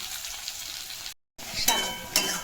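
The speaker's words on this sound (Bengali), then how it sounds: "সব জিনিসটা আমি এরকম সুন্দরভাবে ভেজে নিয়ে আমি এটা আলাদা তুলে রেখে দেবো।" Eggplant and vegetables frying in a pan, a steady sizzle with a few sharper crackles, broken by a brief gap of silence.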